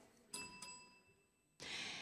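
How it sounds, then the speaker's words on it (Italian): Two quick rings of a small historic hand bell marking time at a classical debate, bright and ringing, then a soft lingering tone before a burst of noise, quiet overall. "C'è un campanello."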